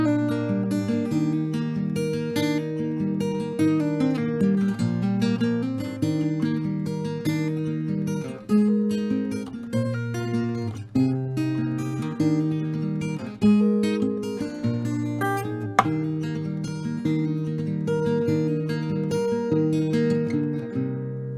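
Acoustic guitar playing rhythm and a lead solo at once, a steady strummed chord bed with melodic picked lines on top, loud and close without pause for about twenty seconds.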